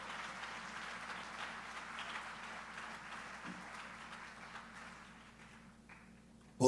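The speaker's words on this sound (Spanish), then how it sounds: "Hermano, aplaude a Él." A church congregation applauds in a soft, continuous patter that slowly fades toward the end.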